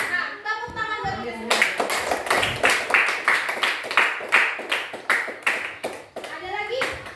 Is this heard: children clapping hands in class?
yes